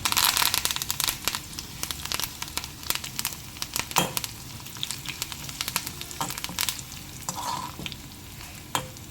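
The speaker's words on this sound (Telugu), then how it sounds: "మంచిగా వేగుతోంది, మంచి వాసన వస్తుంది." Tempering for an ivy gourd pickle sizzles and crackles in hot oil, with continuous frying hiss broken by sharp pops and the scrape of a spoon stirring in the pan, close and without talk.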